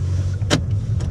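A Hyundai i30 diesel car with around 100,000 km runs quietly, giving a low steady engine hum inside the cabin with one brief click.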